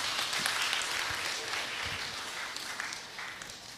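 Applause from an audience at a talk, a steady dense wash of many hands clapping throughout at moderate loudness, with some voices mixed in.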